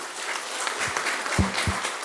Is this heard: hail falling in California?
no